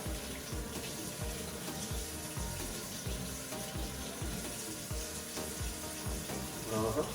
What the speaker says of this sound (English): bear with me while I just kind of run these under water